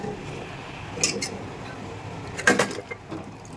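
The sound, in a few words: pot and utensils while tipping tempering into dal gosht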